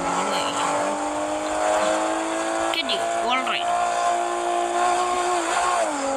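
A car drifts with long, wavering tire squeals over a steady engine drone, sounding close and loud, with voices speaking over it.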